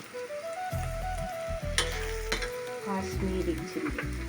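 Turmeric powder goes into curry leaves crackling in hot oil for a kappa biryani masala, a steady close sizzle with stirring scrapes and short clinks, no talking.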